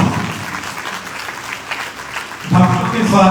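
At a Srimad Bhagavat Katha religious gathering in Ambala, an audience welcomes guests with applause: a noisy wash of clapping runs through, grows louder near the end, and a voice talks over part of it.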